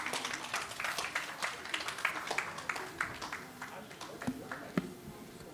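An audience claps at a certificate award ceremony during an international symposium, with scattered, moderately faint applause whose individual claps stay distinct and fade over a few seconds.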